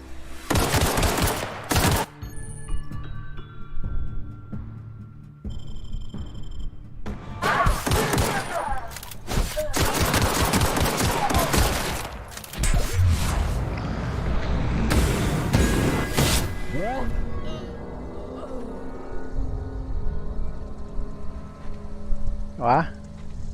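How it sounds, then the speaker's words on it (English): Gunfire in The Outer Worlds, loud repeated shots and bursts across the clip, with thuds and a heavy volley in the middle, under excited talk. "Open fire!"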